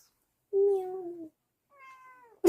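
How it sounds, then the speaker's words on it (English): A cat gives two meows close by, the first a steady drawn-out cry and the second a fainter, higher call, separated by a short pause, before a sudden loud noise cuts in at the end. "But yeah, kitty cats. Meow."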